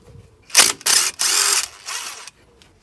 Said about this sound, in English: So with your 13mm socket and your 15mm spanner, those bolts should just loosen up.